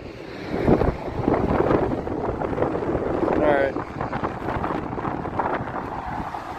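Strong wind buffets the microphone outdoors beside a cab-over truck, a continuous rough roar throughout with faint talk mixed in.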